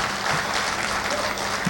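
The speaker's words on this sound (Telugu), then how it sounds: "సరే గట్టిగా చప్పట్లు." An audience in a hall claps loudly and continuously, a dense burst of applause that stays steady throughout with a faint voice underneath.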